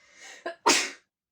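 One sharp sneeze, close and loud, preceded by a short breathy intake and a quick catch of breath.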